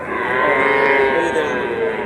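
A heifer calf lows loudly and steadily for about two seconds, close by, at a busy cattle market in Joypurhat, with no talk over it.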